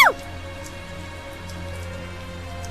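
Steady rain patters evenly over the scene in the video game Tales of Zestiria, a soft continuous wash of falling drops heard alone after a brief tonal chime at the very start.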